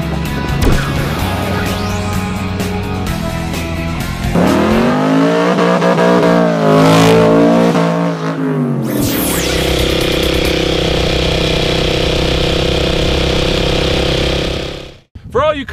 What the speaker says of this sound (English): we're going to do our very first motorcycle 0 to 60 run